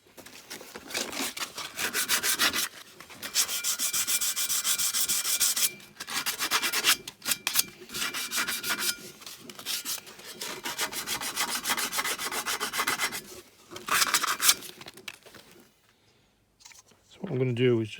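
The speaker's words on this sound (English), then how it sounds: "I'm just going to rub this down and the mating faces" Rubbing down the mating faces of a Z20LET inlet manifold by hand, a steady broadband scraping in long strokes with short pauses, close and fairly loud, ending with a brief higher-pitched sound.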